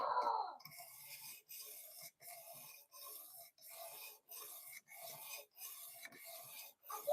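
A knife drawn across a new sharpener: regular rasping strokes about every two-thirds of a second, close and fairly quiet, each separated by a brief gap, with no talking.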